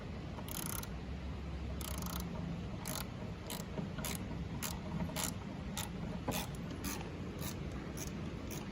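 A Snap-on ratchet is worked in a series of quick, crisp clicking strokes, close and moderately quiet, over a steady background hum.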